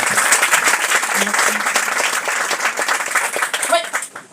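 Audience applause at a round-table conference, loud sustained clapping from a crowd that carries on for several seconds before tapering off.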